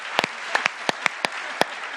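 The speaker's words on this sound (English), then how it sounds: "Please join me in giving them a huge round of applause." An audience claps for two debate teams after a debate event, heard as scattered, fairly close individual hand claps with a steady room murmur underneath.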